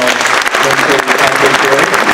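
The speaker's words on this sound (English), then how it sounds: "So how about a round of applause for Bob and one of his final" Audience applause at a wind ensemble concert in a museum hall, honoring a trumpet player: a dense, steady wash of clapping from a crowd, loud and close, with some voices mixed in.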